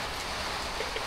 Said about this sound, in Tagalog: Kaya dito yung ulan eh.